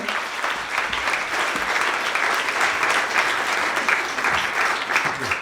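Audience applause for a newspaper editor-in-chief at a stage event, a loud, continuous, close wash of clapping that keeps a steady level from start to end.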